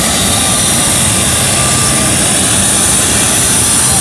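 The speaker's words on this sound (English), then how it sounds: "the newest military tanker, brand new, and it's right in front of Boeing Plaza" A brand-new Boeing military tanker jet at the Oshkosh airshow roars loudly and continuously, a dense, close engine rumble and whine filling the whole stretch.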